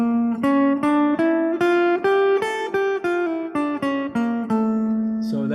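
A jazz guitar plays an A mixolydian flat 2 flat 6 scale, a steady run of single plucked notes in even rhythm, each note ringing clearly and close by, with no voice.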